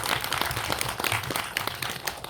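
Audience applause at a community film event, steady clapping from a crowd filling the room, fairly dense and even throughout without a break.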